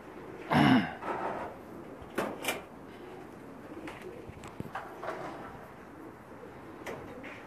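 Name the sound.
pigeons cooing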